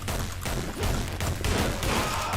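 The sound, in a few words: gunshots in a video game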